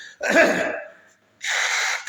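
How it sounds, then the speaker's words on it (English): Two forceful, breathy nose blows outdoors in the cold, the first rough and wet, the second a steadier hissing blast after a short pause, close to the microphone. "I'm gonna blow my nose again"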